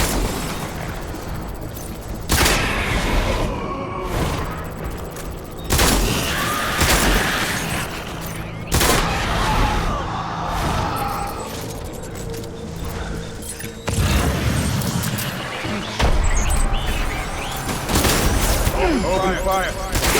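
Repeated bursts of gunfire and heavy booms from a battle in the video game Death Stranding, loud explosive volleys recurring every few seconds over a constant rumbling backdrop, with voices speaking amid the fighting.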